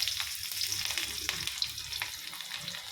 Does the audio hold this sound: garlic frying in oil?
yes